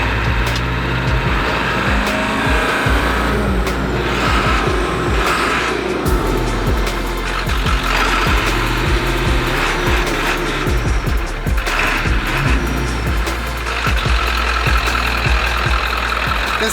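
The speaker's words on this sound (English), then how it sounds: "So if it detects that the charge is a little bit low, you can actually hear it start to rev up." A van built with an EMD engine revs up steadily as its charge-protect system raises the idle to keep the batteries charged, producing a loud, continuous, deep mechanical drone close by.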